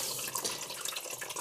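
Water draining and splashing in a kitchen sink while a large fish is cleaned, a soft, continuous trickling wash with small gurgles, heard alone at low level.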